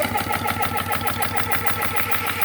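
Cordless 18V GX PCP air pump motor revving up and running loudly, a steady close mechanical drone with a rapid regular pulsing throughout.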